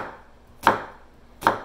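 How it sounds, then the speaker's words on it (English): Two crisp, close knife chops through an onion on a cutting board, cut into large pieces for a garden vegetable soup, spaced about a second apart with quiet between them. "you're just going to chop it kind of big for soup"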